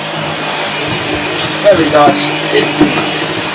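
A Tineco PURE ONE S12 cordless vacuum cleaner runs with a steady close motor whine and airflow hiss, while a person speaks briefly over it.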